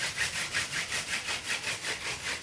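A wooden hand-drill spindle is twirled between the palms against a wooden fireboard to make a coal, producing a soft, close, rhythmic rubbing whirr that pulses back and forth at a steady quick pace.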